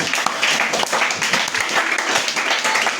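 Church congregation applauding in a lively, continuous stream of clapping with some rhythmic accents and faint voices mixed in.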